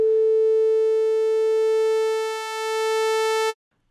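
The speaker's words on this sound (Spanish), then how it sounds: "si la fuéramos a convertir a una onda de diente de sierra" A steady sawtooth-wave tone with a rich, buzzy stack of harmonics holds one pitch for about three and a half seconds with a slight dip in level, then cuts off abruptly, leaving silence.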